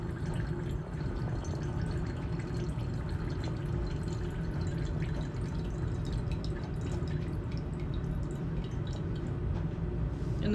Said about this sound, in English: we can use the same aqueous layer beaker from before and let out the brine